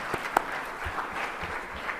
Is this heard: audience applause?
yes